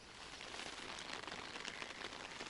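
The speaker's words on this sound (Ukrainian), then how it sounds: "Дощ як почався в 9 годин і досі йде" Rain falls steadily at night at a fishing spot by the water, a dense, soft patter of drops hitting surfaces, even and continuous with no voices.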